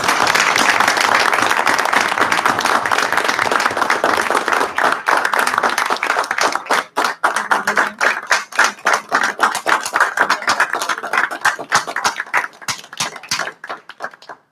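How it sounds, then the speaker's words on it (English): Applause for a board member fills a school district board meeting: dense, loud clapping from a group that gradually thins into scattered individual claps before fading out. "let's give him one big round of applause"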